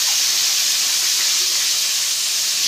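Bhola fish fries in hot oil, giving a loud, steady, broad hiss that carries on unbroken with no talk over it.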